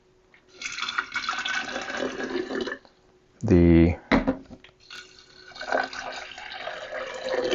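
Filtered water is poured to rinse sprouting buckwheat: a loud, brief splash lasting about a second, set among other kitchen noise and nearby talk.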